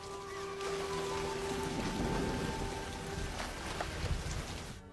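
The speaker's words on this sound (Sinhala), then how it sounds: "මේ වැස්ස ඉක්මනට ඉවර වෙයිද?" Steady rain pours down in an animated fairy film, a dense, even hiss of drops on surfaces with faint rumbling underneath and no talking over it.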